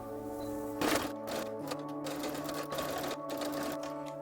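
Sewing machine running steadily while stitching the shoulder seams of a smocked dress, a continuous close mechanical whir with a brief louder burst near the start, alone with no talking.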